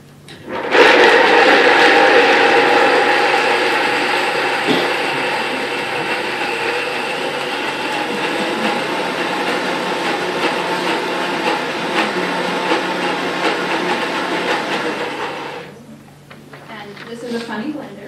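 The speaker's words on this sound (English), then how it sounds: "this is a very loud blender" A loud bar blender whirring cashews with water, starting abruptly and running at a steady, harsh high-speed roar for about fifteen seconds before cutting off, followed by quieter handling sounds.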